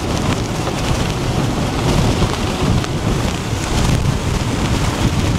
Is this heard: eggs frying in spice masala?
no